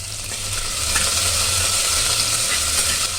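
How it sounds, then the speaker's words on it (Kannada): Chopped onion and two green chillies fry in a pan for ghee rice, making a close, continuous sizzle with a soft stirring texture and a low steady hum beneath it. "ಈರುಳ್ಳಿ ಸ್ವಲ್ಪ ಕಲರ್ ಚೇಂಜ್ ಆಗಲಿ ಅಷ್ಟುವರೆಗೂ ಹುರ್ಕೊಳ್ಳೋಣ"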